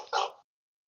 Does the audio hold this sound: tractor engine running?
no